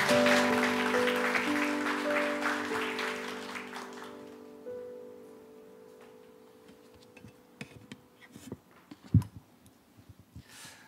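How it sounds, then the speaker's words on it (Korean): A church congregation in a Korean worship service claps together for several seconds over sustained keyboard chords. The dense applause fades out, leaving a quieter room with scattered small knocks. "우리 일하실 하나님께 영광의 박수 올려드리겠습니다"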